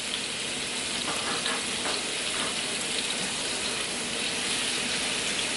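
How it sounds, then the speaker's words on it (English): Continuous hissing sizzle of salmon frying in oil in a hot pan, steady and close, with occasional faint crackles. "we're gonna let that sizzle for a little bit and then we're gonna flip it over"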